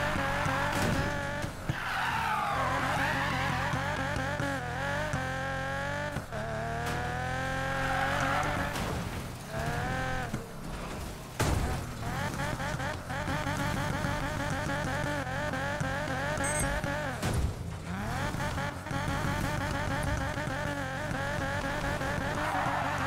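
A car drifting off-road in Need for Speed Payback, its engine revving and shifting constantly through rising and falling pitches while the tyres squeal and skid over dirt, loud and continuous.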